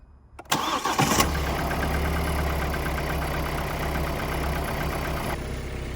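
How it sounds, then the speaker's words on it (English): A Hyundai i40 with a 1.7 GDI engine, automatic transmission and just under 100,000 km cranks briefly with a slight hesitation, catches, and settles into a steady, close idle rumble, no voices. "So the engine started, let's say, well, however, there was a slight hesitation"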